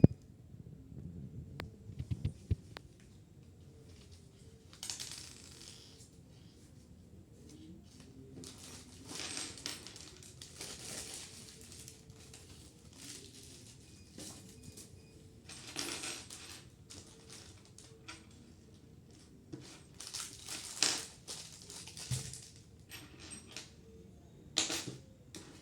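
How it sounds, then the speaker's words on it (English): Small metal mounting screws for a video door phone bracket clink and rattle as they are handled and tipped out, giving faint, scattered clusters of light metallic taps over a quiet background. "These are some of the screws which are provided for the mounting of the bracket"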